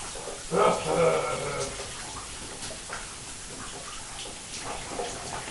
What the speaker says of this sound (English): That was the sounds of a madman showering.